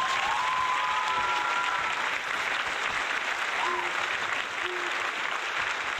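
Applause sound effect played over a game livestream, a steady wash of clapping that runs the full length at constant loudness, with faint tonal game sounds beneath it.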